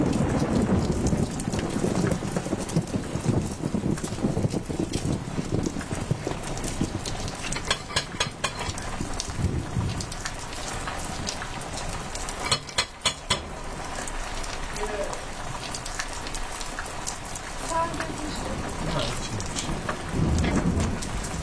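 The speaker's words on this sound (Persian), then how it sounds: "بارونم که داره شروع میشه" Steady rain falls with thunder rumbling through it, a continuous wash of drops on surfaces broken by a few sharper cracks, near and loud with no talking.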